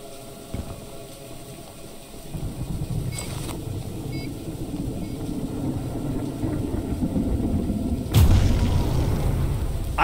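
A loud explosion booms near the end in the video game Choo-Choo Charles, blasting open a door, cutting sharply through a steady rumbling, engine-like drone that fills the rest of the scene.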